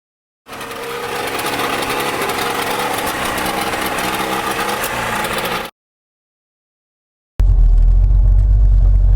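A DeTomaso Pantera sports car engine runs loud and steady for about five seconds, cuts to silence, then returns as a deep, heavy rumble.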